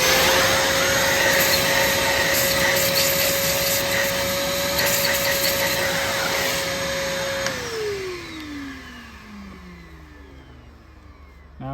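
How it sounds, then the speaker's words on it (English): Shop vacuum cleaning metal chips out of a drilled-out bolt hole on a Chevy Cruze engine during a timing chain thread repair; a loud steady whine runs for several seconds, then the motor shuts off and winds down. "now that it's drilled out all the way, take a vacuum."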